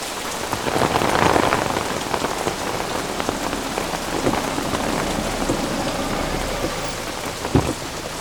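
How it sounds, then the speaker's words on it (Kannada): Heavy rain pours down steadily and loudly on surfaces, a dense continuous hiss and patter, with a low thunder rumble and occasional nearby thuds, and no one speaking. "ಏನು ಮಳೆ."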